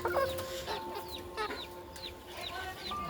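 Several chicks chirp and peep repeatedly in quick, high calls at close range while feeding on wet feed and bran mash, with soft clucking underneath and no talking.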